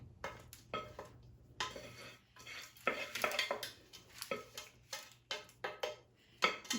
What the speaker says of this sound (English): We just put it in the pan and we press it down in there real good